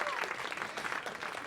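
A studio audience breaks into applause at a music interview, a dense, steady patter of clapping at moderate loudness, with a voice faintly mixed in.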